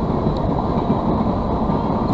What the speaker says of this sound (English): It's early in the morning and there's a big train